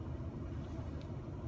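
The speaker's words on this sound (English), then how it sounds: "We are waiting for my car to warm up" A car engine idles while warming up on a winter day during a snowstorm, giving a steady, faint low rumble that holds without change. No talk is heard.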